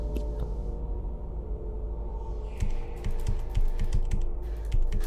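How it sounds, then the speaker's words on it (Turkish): Rapid computer keyboard typing, with clustered key clicks over a steady low background hum. "Klavye sesi çıkıyor."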